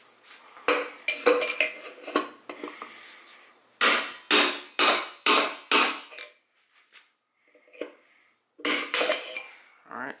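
A hammer taps a 1/4 inch GearWrench punch to drive out a front wheel bearing on a vintage Honda Z50 Monkey bike, with sharp metallic strikes coming in clusters and short gaps between them, close and fairly loud.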